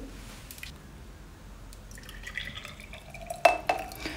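Boiling water is poured into a vase to clean paintbrushes, with a quiet trickle and faint dripping that turn into a brighter splash and a glassy clink near the end.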